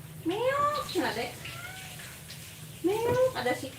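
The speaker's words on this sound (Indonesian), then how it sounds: "Meow, ada si kucing." A domestic cat meows several times up close indoors in a cluttered house, rising drawn-out cries with a short pause between, while people chat over and around the calls.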